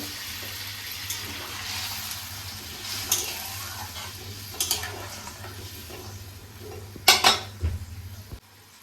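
Pots and utensils clink and clatter in a kitchen as papaya and potato go into a curry pot of hot water for a katla fish curry, with a steady low burner hum underneath and a few sharper metallic knocks near the end.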